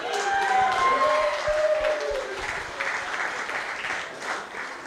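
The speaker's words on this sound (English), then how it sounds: "give Sandy a big applause" A presentation audience gives Sandy loud, steady applause that dense clapping fills from the start, then slowly thins and softens over a few seconds.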